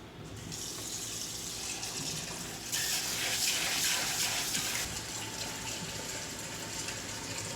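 A cooking pot being washed under a running kitchen tap, the water gushing steadily into the sink and growing louder in the middle as it strikes the pot, with no talking.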